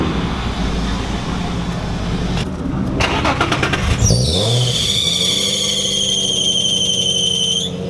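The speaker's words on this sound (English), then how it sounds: "You just hear the brakes all loud." Brakes on a Nissan G35/350Z squeal loudly while the car slows gradually, rising into a sustained high-pitched whine over steady road and engine noise.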